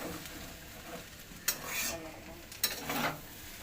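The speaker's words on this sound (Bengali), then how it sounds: "আমি নাড়তে থাকবো" Chicken pasta is stirred in a pan over a soft, steady sizzle, with two sharp utensil scrapes against the pan standing out above the frying hiss.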